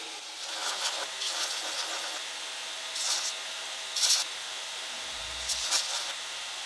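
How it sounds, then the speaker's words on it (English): A belt grinder puts a radius on the top and bottom of a brass knife handle, a soft sustained hiss with several brief, louder bursts of abrasive rubbing as the metal meets the belt. "that's much quicker and easier to do on the belt grinder"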